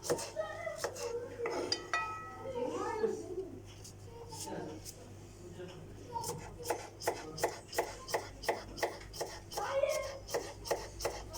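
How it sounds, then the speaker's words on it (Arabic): A knife chopping tomato and cucumber for a salad in a home kitchen, sharp rhythmic cuts on a board that come quicker in the second half, with someone talking over the first part and utensil clatter. "والحستين نفرم السلطة ونرجع لكم، بس بندورة وخيار وليمون"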